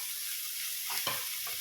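Diced potatoes and fish roe fry in a pan, a steady soft sizzle with a few brief stirring scrapes and clicks near the end, fairly quiet and close.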